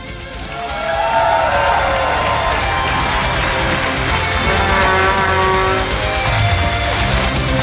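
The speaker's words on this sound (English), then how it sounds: "please give a round of applause to World All-Star team" A large crowd at an esports StarCraft II championship event cheers, whoops and claps for the World All-Star team, a loud continuous roar of voices and applause that swells after the first second and holds steady.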